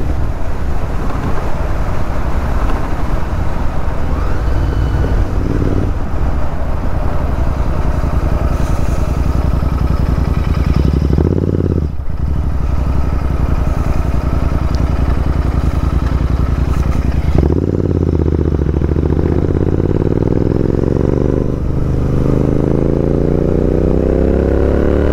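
A Royal Enfield Interceptor 650 motorcycle exhaust note, a loud continuous engine drone with throttle changes, a brief blip near the middle and a rising rev toward the end, heard alone without talk.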